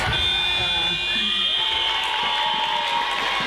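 Maltese fans at an under-17 Isle of Man versus Malta match cheer and shout in a loud, sustained crowd roar as a high buzzer sounds to mark the end of the quarter.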